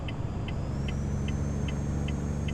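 An Autocar truck engine in American Truck Simulator idles with a steady mid-range drone, while a regular ticking indicator clicks about twice a second over it; no talking.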